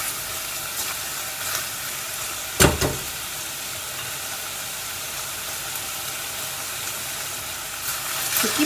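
Lamb meat fries in a pan for an Anglo-Indian brown stew, giving a steady, even sizzle throughout. A brief clatter of a stirring utensil cuts in midway.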